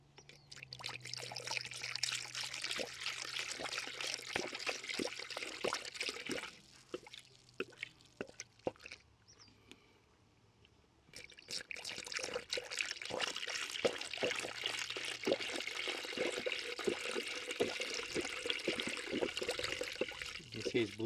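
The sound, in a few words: pouring blue Subaru coolant into car engine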